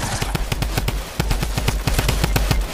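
Rapid bursts of automatic gunfire from a video game, a steady string of sharp shots with a brief pause before the firing resumes, loud and close.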